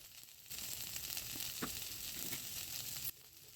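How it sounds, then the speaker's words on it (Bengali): Fried eggplant is stirred into fenugreek greens in a hot pan, making a soft, steady sizzle with light scraping from the stirring. It stays faint and close, with no talking, and breaks off briefly near the start and end. "আগে থেকে ভেজে রাখা বেগুনগুলো শাকের সাথে মিশিয়ে ভালো করে নেড়েচেড়ে নেওয়া হলো।"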